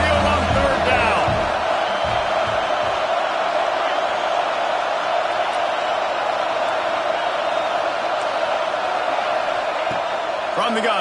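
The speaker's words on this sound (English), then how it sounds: "The Tide crowd rolling noise down onto Saban Field on 3rd down." A packed Alabama football stadium crowd roars steadily on a third down at Saban Field, a loud, continuous wash of noise with a commentator talking over it throughout.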